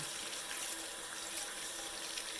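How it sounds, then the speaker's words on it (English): Warm water runs steadily from a sink tap while a makeup brush is rinsed beneath it, a constant close hiss of flowing water with no talking. "Then I come over to the sink with warm water and I just rinse the brush clean."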